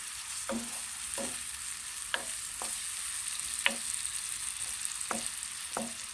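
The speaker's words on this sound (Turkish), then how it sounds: "Soğanlarımı her zaman olduğu gibi şeffaflaşıncaya kadar kavuruyorum." Chopped onions sauté in a pan until translucent, a steady sizzle running underneath while a spatula scrapes and taps the pan about once a second, close by and with no voices.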